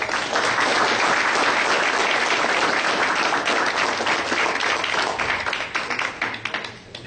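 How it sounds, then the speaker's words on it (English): A crowd at a civics class breaks into loud, sustained applause, a dense wash of many hands clapping together that holds steady for several seconds before fading near the end. "let's give a round of applause to Noble Kudjo Adwo"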